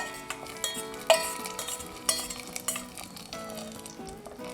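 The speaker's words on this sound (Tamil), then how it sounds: "தேவையான அளவுக்கு முந்திரி பருப்பு லேசாக முந்திரி பருப்பு செவந்து வரட்டும்" Cashew nuts and raisins sizzle and crackle in hot oil in a pan for a kodo millet sweet pongal, with spoon stirring, clinks and scrapes against the metal pan close up.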